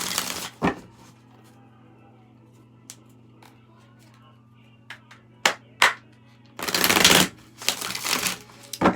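A deck of tarot cards is shuffled in loud riffling bursts near the end. Sharper taps and card snaps come before the bursts, over a low steady hum.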